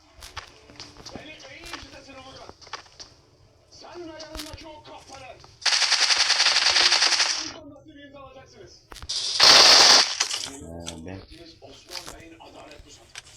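A video game machine gun fires two loud, close automatic bursts, one of about a second and a half and a shorter one later. Quieter footsteps and movement sounds fill the gaps while players talk.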